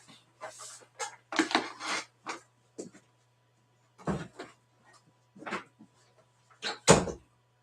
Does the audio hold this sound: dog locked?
yes